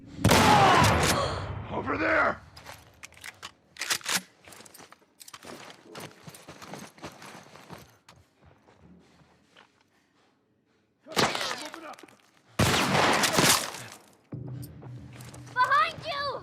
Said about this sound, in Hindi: अब गोली चलेगी